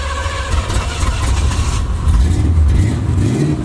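A carbureted box Chevy V8 that needs oil and carburetor adjustment revs loudly as the gas pedal is pressed, a close, rough engine roar rising and falling over a few seconds.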